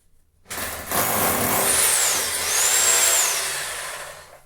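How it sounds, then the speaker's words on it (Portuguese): A rotary hammer drills loudly and steadily into ceramic wall tile, a harsh continuous grinding whine that starts abruptly and holds for several seconds. "agora nós vamos usar o martelete para acelerar o processo"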